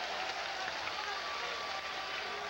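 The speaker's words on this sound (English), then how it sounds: "Wayne Hallbrook gets applauded." Crowd applause at a 2002 Auburn vs Alabama college baseball game, a steady wash of clapping from the stands lasting throughout, moderately distant with no talk over it.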